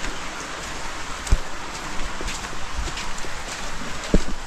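Rain pattering on the leaves of a tree near a tree house, a soft continuous patter with a few sharper drops landing close by.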